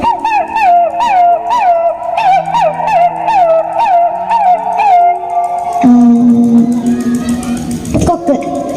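A voice imitates a dog at a stage comedy act with a quick run of loud, yelping barks, then a lower, drawn-out whining howl.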